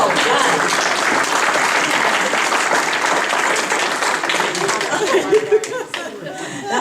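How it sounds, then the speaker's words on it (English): An audience claps and applauds at a boards and commissions meeting on effective meetings, steady and dense throughout, with chatter and some laughter mixed in and a voice speaking briefly under the clapping. "let's give him a round of applause"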